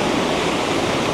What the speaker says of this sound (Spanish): Llegando a la catarata número 2, considerada la más fuerte en El Salvador.